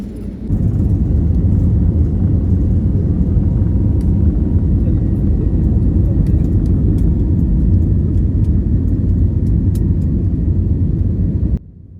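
Steady, loud low rumble inside an airliner cabin during takeoff on a Trivandrum to Mumbai flight, engine roar and road-like vibration holding constant for about eleven seconds before cutting off abruptly.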